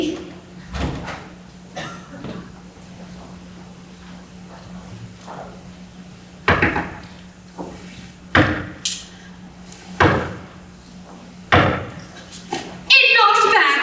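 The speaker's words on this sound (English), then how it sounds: "you knock on the door." Knocks on a door during a community theatre stage performance of Cinderella, a series of sharp single raps spaced out over steady background hum and faint stage voices, ending in louder clatter.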